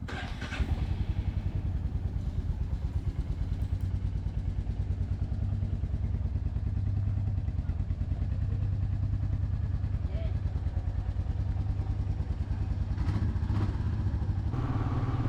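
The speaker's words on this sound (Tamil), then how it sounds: "இப்போ நம்ம ஸ்டார்ட் பண்ணுறதுக்கு முன்னாடி பைக்கை கொஞ்சம் வார்ம் அப் பண்ணிக்கலாம்." A Royal Enfield Meteor 350 motorcycle engine warming up idles steadily and close by, a throbbing low rumble that holds an even pace throughout, with faint voices at moments.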